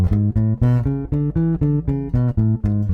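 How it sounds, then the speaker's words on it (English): Bass guitar runs a quick line of evenly spaced plucked notes, bright and close, moving steadily through an E dominant scale with no talking. "Here's an E dominant scale."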